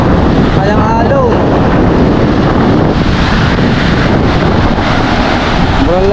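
Sea waves and strong wind roar loud and close into the microphone, a constant rushing wash with a few faint voices underneath.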